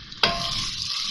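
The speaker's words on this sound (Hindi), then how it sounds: "अब ये प्याज डाल रही हूँ इसमें।" Chopped onions hit hot oil in a pan, a sudden loud sizzle that starts abruptly and holds as a steady, close hiss.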